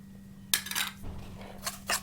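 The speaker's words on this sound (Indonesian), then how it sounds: "Kita kocok cukup menggunakan garpu saja." Metal fork whisking sugar and salt in a bowl for banana cake batter, giving a few brief clinking scrapes against the bowl in separate bursts, close and fairly quiet with a steady low hum beneath.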